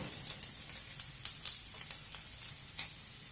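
Ginger and garlic pieces fry in oil with a quiet, continuous close sizzle, broken by small pops and light stirring scrapes at irregular intervals.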